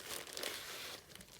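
Soft crinkling of wrapping being pulled off craft kit items, a continuous close rustle that is faint and brief, with no voices.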